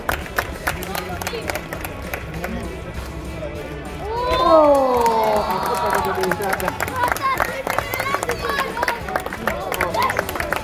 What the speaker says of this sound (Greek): Πάμε χειροκρότημα.